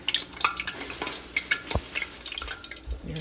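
Roti fries in a pan for East African chicken curry, soft crackling and light sizzling with a few spoon or pan taps, brief and close.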